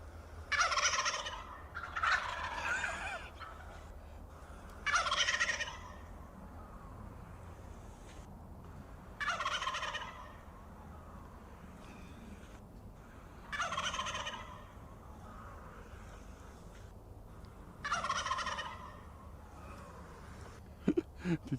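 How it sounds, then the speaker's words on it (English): Wild turkeys gobble in a forest, several rattling bursts spaced a few seconds apart over a steady low hum, moderately distant and clear. "Turkey is sounding."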